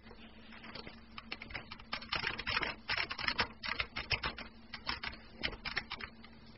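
Rapid keystrokes on a computer keyboard as a command is typed, a steady clicking patter running throughout at close range with no talking.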